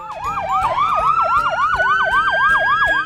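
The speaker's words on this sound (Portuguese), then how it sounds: "Vejam, está chegando uma ambulância." Cartoon ambulance siren wailing in a steady, fast up-and-down sweep, loud and continuous, heard alone without any talk.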